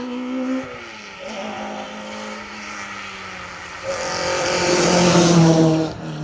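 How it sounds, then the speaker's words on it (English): A rally car's engine drones at a distance on an asphalt rally stage, then revs up sharply and grows louder as it approaches before fading back. "all of a sudden the engine notes pick up again and they head up this way"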